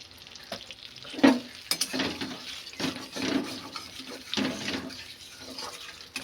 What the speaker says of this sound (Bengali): এবার বিরিয়ানির আলুগুলো আমি ভেজে নেব।